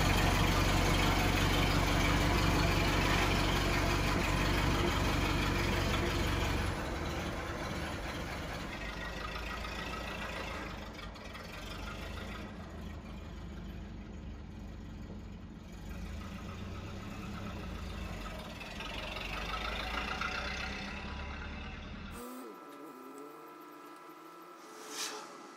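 The engine of a 1931 Ford Model A pickup idles steadily up close, a low continuous rumble that eases slightly partway through before cutting off near the end.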